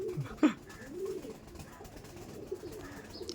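Pigeons of the Andra and Chennai Madras breeds coo in low, throaty bursts at a home loft, with one fairly close, stronger coo early on and softer cooing continuing in the background.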